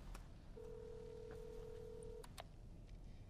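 A payphone call in the video game Devil May Cry 5 produces a single steady ringing or dial tone lasting under two seconds, fairly quiet against a noisy background, followed by brief clicks.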